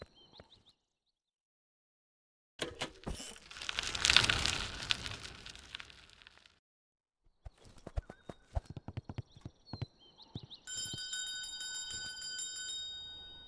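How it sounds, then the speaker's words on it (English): Shop bell rings out in the Rumble VR game, a bright chiming tone near the end over a run of clattering, clip-clop-like game sounds and thumps, with no talk. "If you have something new in the shop, you hear a bell ring."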